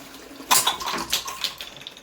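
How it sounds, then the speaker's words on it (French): A toilet flushes with a sudden gush of water, then a gurgling, splashing rush that tapers off over a couple of seconds, close by and with no voices. "Et maintenant, on tire l'eau."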